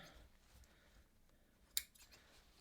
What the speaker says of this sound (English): I'm just going to use my scissors and cut the stitching a little bit.